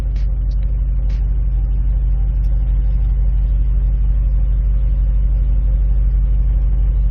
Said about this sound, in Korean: 드라이빙 모드에 따라서 아, 이 배기음이 달라지는 거 느껴지시죠 스포츠 플러스 모드입니다